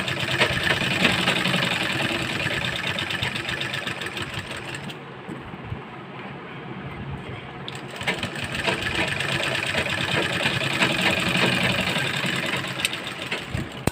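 Sewing machine stitching the boat neck of a kurti, a steady loud mechanical whir running almost throughout, easing briefly in the middle before resuming at full pace.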